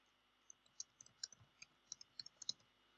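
Mouse button clicking on a computer while registering a Laravel 8 authentication setup, a series of crisp, close clicks in uneven rhythm, some in quick pairs, over a faint steady hum with no talking.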